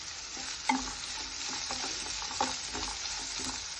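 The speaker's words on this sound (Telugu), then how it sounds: "ఉల్లిపాయ సన్నగా తరుక్కున్నాం కదా, త్వరగానే వేగుతుంది" Finely chopped onions frying in a pan, a constant close hiss of sizzling oil broken by a few sharper scrapes and taps of a spatula stirring, steady throughout with nobody speaking.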